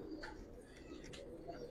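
Soft, low coos of Giribaz pigeons repeat against a steady background hum, fairly quiet and somewhat distant, at a loft in Old Dhaka.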